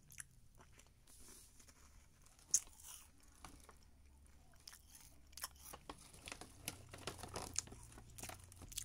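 Crunchy Simba Makura chocolate cereal snack being bitten and chewed close up, a steady run of crisp crackling crunches with occasional sharper bites, alone without talk.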